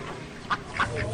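Domestic ducks being fed in a coastal village yard quack in three short, clear calls spaced a few tenths of a second apart, close by over a soft outdoor background.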